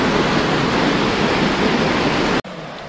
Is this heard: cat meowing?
no